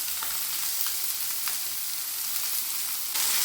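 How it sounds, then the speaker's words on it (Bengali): Small chopped onion frying in hot oil, a steady dense sizzle that holds evenly throughout at close range, with faint stirring ticks and a slight rise in volume at the end. "পেঁয়াজটাকে একটু লাল লাল করে ভেজে নিচ্ছি।"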